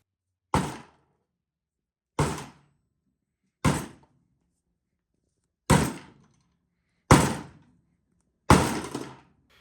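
Six sharp, loud knocks ring out at roughly even intervals as the bent internal strut of an Arken SH4 Gen 2 rifle scope is worked back into place, each hit decaying quickly into silence, with no talking.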